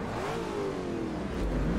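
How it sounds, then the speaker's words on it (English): A racing car's engine revs hard in Forza Motorsport 3, a loud, continuous roar with a rising and falling pitch, filling the whole moment with no talk. "What an engine roar."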